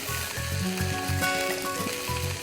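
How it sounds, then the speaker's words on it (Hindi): Vegetables for a vegetable korma frying in a pan, a steady close sizzle running throughout with a faint tonal hum over it, and no one talking. "हल्का सा इसे और भून लीजिए"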